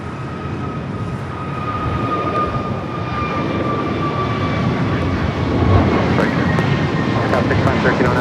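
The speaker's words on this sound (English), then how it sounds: "Next takeoff, American Airlines Flight 2994 heading to Dallas. A321neo." An American Airlines Airbus A321neo jet bound for Dallas takes off at LAX, its engines a steady, loud broadband roar with a faint whine, continuous and building slightly toward the end.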